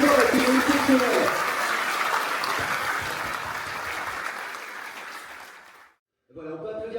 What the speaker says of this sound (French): Bravo, on peut l'applaudir plus fort, c'est exceptionnel.